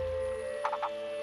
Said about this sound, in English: The frogs have timed their mating in perfect synchronization with the coming rains.